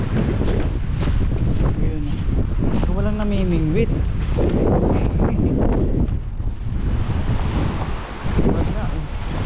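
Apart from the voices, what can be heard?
strong wind at Weymouth Beach, New Zealand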